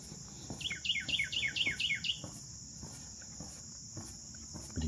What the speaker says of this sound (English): Listen to that bird chirping.